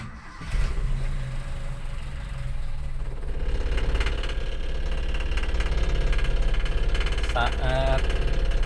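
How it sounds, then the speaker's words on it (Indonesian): Toyota Kijang engine with a freshly tuned carburetor, starting up then idling steadily with a close, rumbling drone that firms up over several seconds, a brief higher mechanical whine near the end. "Saat mesin pertama menyala, mesin terasa bergetar ya dan bergoyang."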